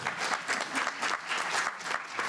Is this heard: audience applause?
yes